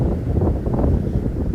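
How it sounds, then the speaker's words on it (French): Cool wind blowing on a seaside promenade, a steady low rumbling gust buffeting the microphone throughout, with no talk. "il y a un vent bien frais"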